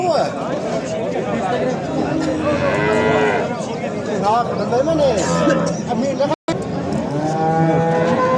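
Several cows, including Limousin and Angus crosses, moo loudly and repeatedly at a livestock market in Kitob, Uzbekistan, their long drawn-out calls overlapping with background chatter from people nearby.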